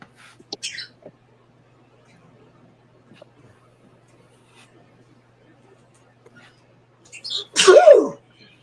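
A single loud, close sneeze bursts out near the end of a quiet room, after faint murmurs, soft clicks and brief shuffling sounds.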